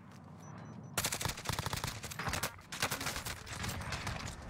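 Rapid automatic gunfire erupts in the video game Call of Duty Warzone after a quiet second. Dense, loud bursts of shots follow one another closely and continue to the end.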